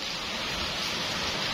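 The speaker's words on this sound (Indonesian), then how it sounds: "Cuaca mendukung, hujan di luar." Steady rain falling outside during an evening satay grilling session, a dense continuous hiss without breaks.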